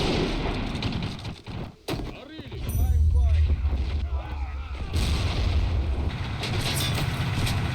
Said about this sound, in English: this tank gun is still activated, though